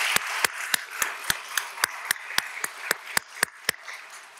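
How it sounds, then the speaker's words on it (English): A few people clapping at a city swearing-in ceremony, sharp distinct claps in a steady, slightly uneven rhythm, sparse rather than a full crowd, with no talking over them. "let's give a round of applause to our city staff."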